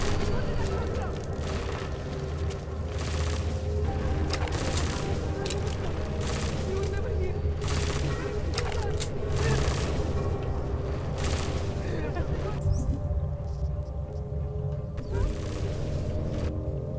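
Gunfire from the video game Deus Ex: Mankind Divided, sustained bursts of automatic shots and loud booms that keep going with few gaps.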